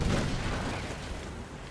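Cannon fire from a ship in Skull and Bones: loud booming blasts with a heavy rumble right at the start that then fade into a dull roar.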